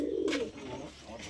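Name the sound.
pair of Surmai Madrasi pigeons cooing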